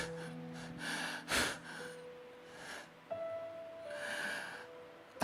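A man imitates panting, gasping breaths, a few heavy audible inhales and exhales with sharp catches, close and alone over faint room tone.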